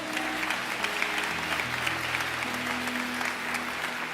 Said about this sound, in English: Y'all give Sam a round of applause.